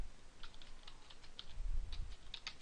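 A URL is typed on a computer keyboard in a quick, uneven run of light key clicks, close by over a faint low rumble.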